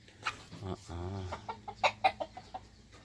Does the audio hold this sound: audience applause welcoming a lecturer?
no